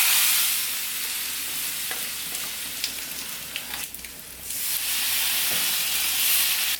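Onions fried with chili powder crackle and sizzle steadily in hot oil, a dense hiss with brief stirring clicks and a swell near the end, no voices.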